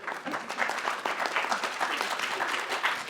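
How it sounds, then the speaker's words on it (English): Audience clapping at the close of Brandon Sanderson's writing class session, a modest, fairly quiet patter of many hands that holds steadily for a few seconds. "You don't need to clap just because we're on film"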